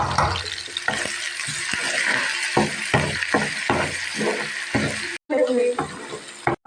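Ginger garlic paste frying in hot oil for a saag tadka, making a loud steady sizzle with sharp crackling spits and a brief drop to quiet near the end.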